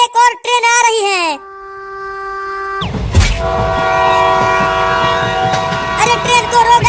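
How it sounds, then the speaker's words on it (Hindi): A train passing: a loud horn blast, then a steady rumble and clatter of rail cars that continues to the end, with people talking over it, including a voice. "वो देखो, एक और ट्रेन आ रही है।"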